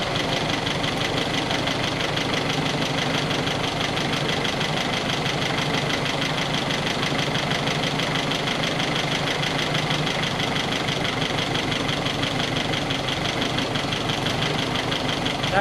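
A 1961 Triumph TR3A engine running at a steady idle after a distributor upgrade, an even, unbroken mechanical drone with a slight knocking rhythm, close and constant throughout with no voices.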